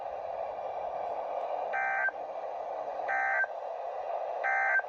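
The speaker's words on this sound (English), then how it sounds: "The following tones will conclude this test." Emergency Alert System weekly test tones from a weather radio broadcast: a low steady hum broken by three short, evenly spaced bursts of shrill data tones, clear and alone.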